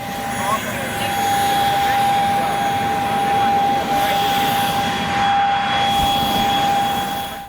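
Inside a private jet in flight, a continuous engine and cabin drone holds steady at an even level from start to finish.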